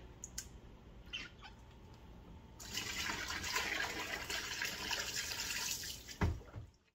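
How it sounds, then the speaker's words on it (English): Excess water drains off soaked moss for a staghorn fern mount, a quiet trickle at first giving way to a louder splashing pour that runs several seconds, ending in a couple of sharp clunks. "Then I'll drain off this excess water and take it back to our workstation."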